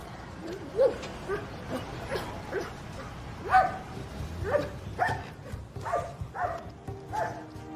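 Several dogs bark and yip in a lively, scattered series of short calls over about eight seconds, moderately close, with faint whimpering between the barks and no talking.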